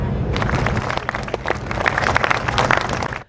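A crowd applauds as the organizers of the San Francisco Tết festival step onto an outdoor stage, with dense, steady clapping throughout and a few louder bursts near the end.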